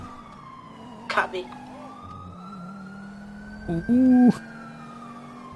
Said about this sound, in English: I hear a sirens.